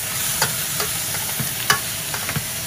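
Onions and garlic sizzle in a pot for a traditional Moroccan couscous royal, a steady bright hiss broken by a few sharp scraping stirs and clinks, close and alone.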